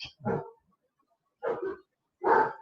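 Dogs bark in three separate bursts, a short one near the start followed by two louder doubled barks, spaced by silent gaps and close to the listener, with no talk over them.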